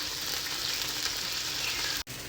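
Egg frying with chicken sisig in a pan, a steady close hiss and sizzle throughout, broken by a brief clatter near the end.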